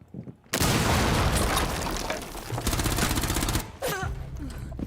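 Rainbow Six Siege gunfight with loud, rapid bursts of automatic gunfire that rattle continuously for several seconds, then break off and resume briefly.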